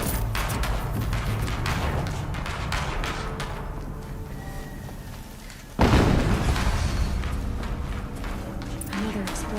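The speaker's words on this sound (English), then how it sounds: "Another explosion." An explosion in the video game Horizon Zero Dawn, heard as a heavy boom that hits suddenly midway, amid ongoing loud rumbling and clattering action from the game.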